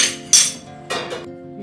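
Dishes and utensils clink during cooking in a kitchen: two or three bright metallic knocks and clatters in quick succession, close by, with a quieter tap just after.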